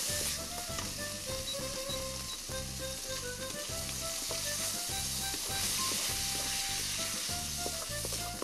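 Shredded radish with fried tofu and crispy tofu skin sizzles steadily in a hot wok, with a continuous frying hiss and rhythmic clanks of a spatula stirring and tossing the pan.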